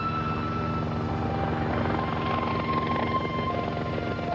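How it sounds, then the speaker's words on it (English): A lone helicopter passes overhead at a memorial ceremony, its steady rotor chop and turbine whine holding constant and moderately distant throughout. "At the end of the ceremony, a lone helicopter flew over in tribute."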